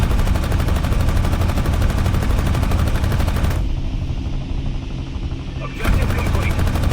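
Gunfire in the VR game Aces of Thunder, rapid sustained machine-gun bursts at loud close range, pausing briefly before firing resumes.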